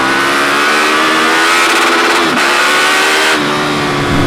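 A KTM Superduke 1290 R motorcycle is ridden hard and accelerates toward its 11,000 rpm redline. The engine roar rises steadily in pitch and stays loud and close, with a brief dip at a gear change.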